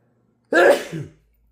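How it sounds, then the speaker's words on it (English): One loud, abrupt sneeze bursts out close by, with a short breathy tail afterward. "I'm gonna sneeze over here."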